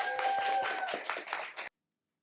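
A poetry slam crowd at a public library claps and cheers for the poet Calvin, dense close applause with a few voices ringing out, then cutting off abruptly into silence.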